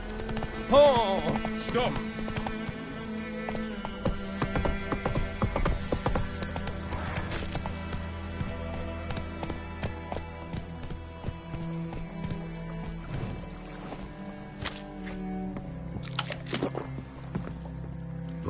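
Horse hooves clip-clop steadily during a ride in The Witcher 3, layered with game music and ambience, while a character's voice briefly calls out over them.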